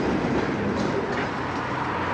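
Former Conrail GE B23-7 diesel locomotives of the Minnesota Commercial railroad roll past near St. Paul, a close, steady rumble of wheels and engines that fills the whole moment.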